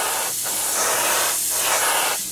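A continuous hissing spray from an aerosol can misting primer on a 1/48 scale model Spitfire, in short bursts with brief dips between passes, close and fairly loud.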